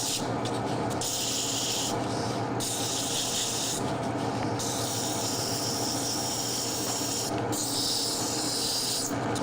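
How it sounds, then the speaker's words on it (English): Sandpaper wrapped around a finger rubs a turned wood cove on a lathe, a steady close abrasive hiss in repeated strokes with brief pauses, over a constant low machine hum. "So I'll wrap the sandpaper around my finger and kind of match the cove that I'm sanding."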